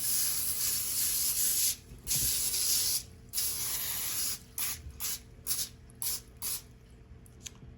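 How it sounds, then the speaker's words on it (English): Several bursts of non-stick cooking oil spray hiss from an aerosol can onto a foil-lined pan, a long initial spray followed by shorter, choppy spurts separated by brief pauses. "I'm going to spray it with some non-stick oil"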